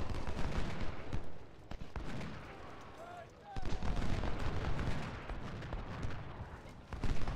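Booming artillery fire and crackling gunfire from a Civil War battle in Ultimate General: Civil War, a dense, continuous din punctuated by sharp blasts near the start and end, with a brief lull around the middle.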